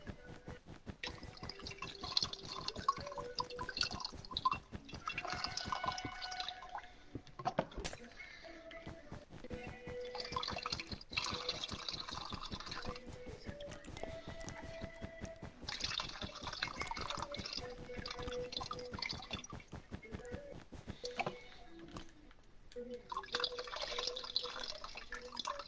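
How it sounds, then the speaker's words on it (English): A toy water tanker being played with in a bedroom gives off continuous close dripping and sloshing, a busy patter of drops that rises and falls in bursts throughout. "I've got a water tanker in my room and I'm just playing with it"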